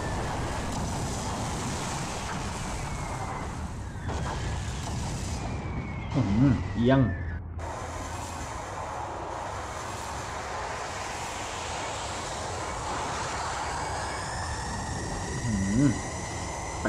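Mech turning into its ship form in Digimon World 3, heard as sweeping whooshes and sharp, piercing metallic rises and a burst that cuts out abruptly, over game ambience, with someone talking throughout.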